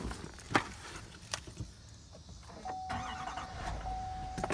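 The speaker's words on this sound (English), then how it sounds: "Remote start." A 2021 GMC Sierra 3500HD Denali truck engine starting by remote start, heard from inside the cab: a few clicks and thumps, then a steady mid-pitched idle with a faint whine, moderately close and without talk.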